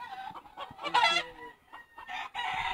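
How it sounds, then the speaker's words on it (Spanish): Chickens cluck and a rooster crows at a poultry breeding farm in Celendín, Peru, the calls close and fairly loud, overlapping in bursts with short quieter gaps. "Acá hay otro pollito."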